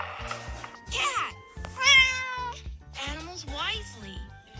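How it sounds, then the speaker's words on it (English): Cartoon cat meowing in a children's animal nursery-rhyme song, several drawn-out, rising and falling meows sung over a bouncy music backing, loud and close. "cat"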